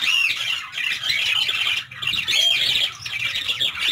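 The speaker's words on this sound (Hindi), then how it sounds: "ये आपके सामने जावा सेटअप कॉलोनी है" Java sparrows in a breeding colony of white, black, silver and brown birds give loud, close, overlapping shrill squawks and chirps in near-continuous bursts with short gaps.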